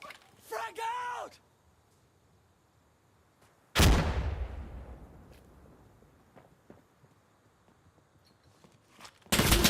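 A sharp explosion bursts loudly in the Death Stranding video game and fades into a long rumbling decay, with a short shout beforehand and another loud blast at the end.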